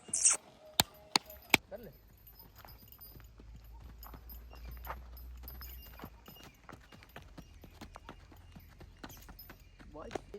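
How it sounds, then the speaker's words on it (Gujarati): A ridden horse's hooves clip-clop in a steady rhythm close by, with a few sharp louder strikes early on and people talking over the hoofbeats. "અત્યારે જો આપણે આ કોહિનૂરને રાઇડિંગ કરીએ છીએ."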